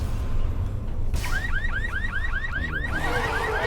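Car alarm in the video game Left 4 Dead 2, a rapid repeating electronic whoop cycling about ten times, sounding over heavy gameplay noise and rumble after a sudden onset.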